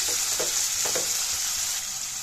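Onions sautéing in plenty of oil for prawn thokku, giving a loud, steady hiss with a few soft stirring scrapes near the start.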